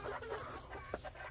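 White Leghorn hens in a large pen give soft, scattered clucks and murmurs close by, with one brief sharper cluck near the middle over steady low background noise.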